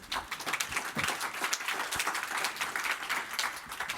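A conference audience at an animal science congress claps after a talk, a moderately quiet, steady patter of many hands lasting several seconds with no voices on top.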